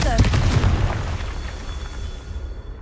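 A Confringo blasting spell in Hogwarts Legacy goes off as a loud, close explosive boom. A rumbling tail fades over about two seconds, and a voice calls out the spell.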